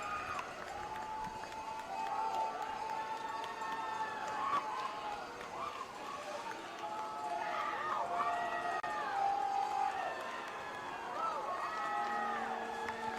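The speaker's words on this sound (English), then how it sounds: "As they hear all the cheers from their family and" Family, friends and teammates cheering rowers from the shore at the Royal Canadian Henley Regatta, a steady crowd roar with whistles and shouts rising and falling over the full stretch.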